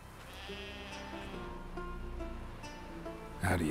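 Sheep bleat in a field, a few drawn-out wavering calls close by over soft outdoor background, ending with a louder burst of noise.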